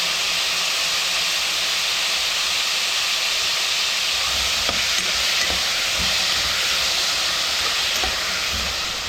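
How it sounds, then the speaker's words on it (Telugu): Chopped tomatoes frying with chicken in a pan for an Andhra-style chicken curry, giving a constant, close, loud sizzle with a few soft stirring knocks partway through. "టమోటా అంటే పూర్తి వేగనవసరం లేదు, మనకు చికెన్తో పాటు వేగుతాయి."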